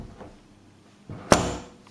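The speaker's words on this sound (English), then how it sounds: "the door opens and closes without any resistance" A repaired, freshly sanded interior door swings and shuts once, a soft faint movement followed by a sharp close-miked thud that rings out briefly in a quiet room.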